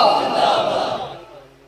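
A crowd at a religious gathering roars a slogan back in unison, a loud massed shout that swells at once and then fades away over about a second and a half.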